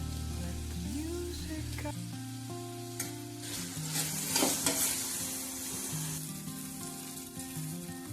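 Salted tomatoes frying in a pan, stirred with a scraping spatula over a continuous sizzle, while a faint melodic tone plays in the background.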